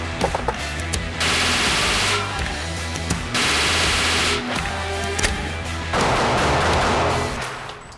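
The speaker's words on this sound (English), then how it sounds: "let's fire 50 rounds and see where we're at." Close, loud rapid gunfire from a firearm fitted with a LaserMax Spartan laser sight during a 50-round live fire test, coming in three sustained strings of fast shots separated by short pauses with scattered single cracks, and no talking.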